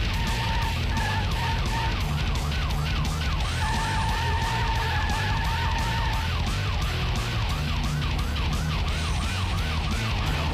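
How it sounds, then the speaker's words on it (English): A getaway car races through city streets during a police chase, with wailing and yelping sirens sweeping up and down over heavy traffic and engine rumble, loud and continuous throughout. "The driver pours on the gas as the chase speeds through city streets"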